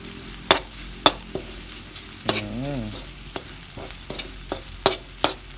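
Chili paste being stir-roasted in a pan for a snakehead fish curry: a steady low sizzle broken by sharp, irregular scrapes and taps of a spatula against the pan, close and fairly quiet.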